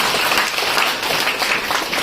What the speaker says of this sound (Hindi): जोरदार तालियों से इसका अभिनंदन किया